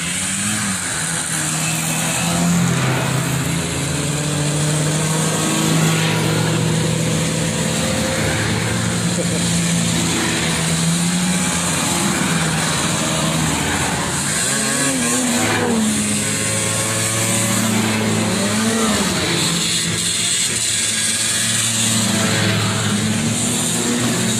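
A vintage snowmobile rides past in a line of riders at a snowy outdoor event, its engine droning loudly and rising and falling throughout, with people talking over the noise.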